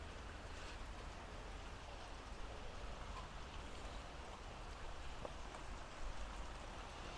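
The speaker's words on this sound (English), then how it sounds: "I love the rain though." Rain falls in a steady, soft wash of broadband patter with no breaks, faint and distant-sounding, and no voices are heard.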